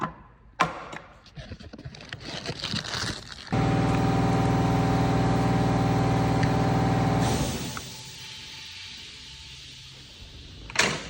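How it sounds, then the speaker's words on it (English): A 2017 VW Transporter 2.0 diesel engine runs at a steady idle for about four seconds, loud and close, between clanks and handling noises in a workshop. "This engine is very happy now because the oil is fully drained"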